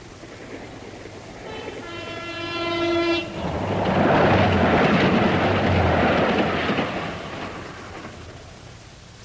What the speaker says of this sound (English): That's the last train they're letting through.